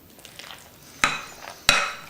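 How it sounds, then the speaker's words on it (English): A spoon stirs Parmesan cheese into a lasagna mixture in a bowl, giving two brief, sharp scraping clinks about half a second apart against a quiet kitchen background. "I'm just going to stir this up."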